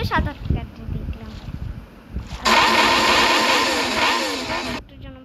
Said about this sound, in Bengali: আমি বাইকটা নিয়ে উঠবো।